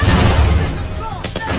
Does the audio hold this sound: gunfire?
yes